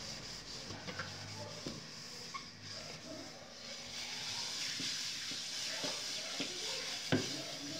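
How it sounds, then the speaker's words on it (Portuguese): Steady gritty scraping of scouring on a pan while washing dishes, with repeated strokes and occasional metallic taps, fairly quiet and close. "Ele não presta para arear a panela."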